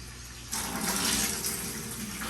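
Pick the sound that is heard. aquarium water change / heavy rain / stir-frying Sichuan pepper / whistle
aquarium water change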